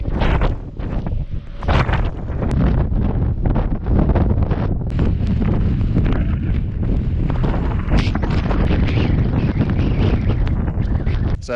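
Strong wind buffets the microphone on a wind-scoured ski slope in Chamonix, roaring and gusting loudly for the whole stretch with irregular thumps.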